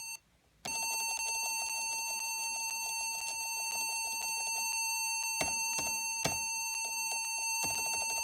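A Compaq LTE 5000 laptop gives a loud, steady electronic beep that starts abruptly after a brief quiet moment and holds for several seconds, with a few soft clicks and knocks near the end.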